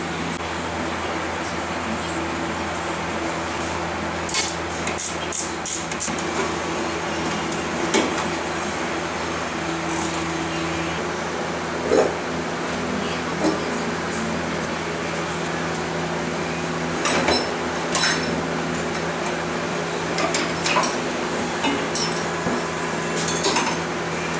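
Rear axle coming out of a home-made 500cc shifter kart: scattered metallic clinks, clanks and tool knocks over a steady background hum, in irregular bursts throughout.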